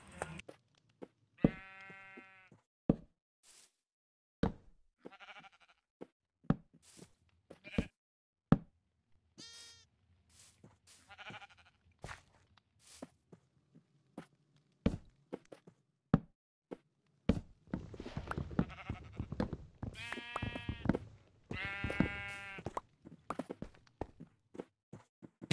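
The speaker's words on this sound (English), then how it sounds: "it's time to expand my sheep farm" Sheep on a farm in the Minecraft survival game bleat in several short, wavering calls, some overlapping, scattered among soft footsteps and knocks over about half a minute, with a burst of bleating toward the end.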